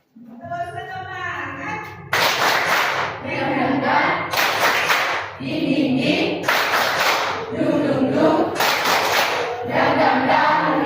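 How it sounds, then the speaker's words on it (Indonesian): Students standing in a classroom perform a rhythmic spirit clap together, loud group claps in repeated sharp clusters over about ten seconds, after a short spoken cue. "Tepuk semangat."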